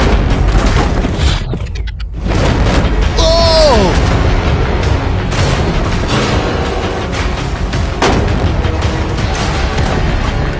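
Shots fired at a shipping container: loud, continuous booming gunfire fills the whole stretch, with repeated heavy impacts and a few brief whistling, tonal sounds layered over the barrage.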